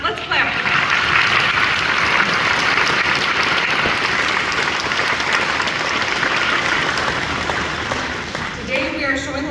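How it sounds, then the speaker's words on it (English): Audience at a Michigan announcement event with the U.S. Secretary of Energy breaking into sustained, loud applause from a large crowd, clapping steadily for several seconds before tapering as a voice resumes. "Yes, let's clap for them."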